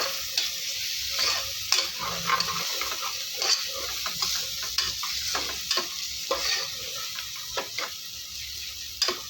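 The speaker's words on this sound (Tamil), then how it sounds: "இதை கொஞ்சம் வதக்கி விட்டுலாம்" Soya chunks sizzle steadily in a hot pan with repeated scraping and clacking of a spatula as they are stirred, close and continuous.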